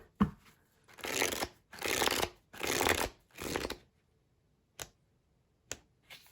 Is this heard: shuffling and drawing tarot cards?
yes